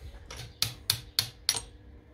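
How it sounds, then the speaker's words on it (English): Four sharp metallic taps, evenly spaced and close by, as a hammer strikes a punch to knock out a drive cup sleeve on a Traxxas X-Maxx RC truck, after a softer first knock. "Punch and a hammer."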